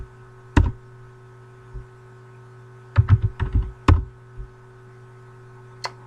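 Commands are typed on a computer keyboard into a remote shell: a single sharp keystroke, then a quick cluster of clicks and one final tap, each crisp and close over a low steady electrical hum.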